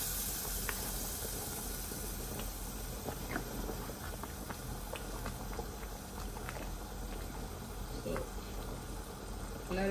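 A pot of Nigerian banga soup with fish simmers steadily, a continuous close bubbling and hissing with scattered soft pops and ticks throughout, no talk over it.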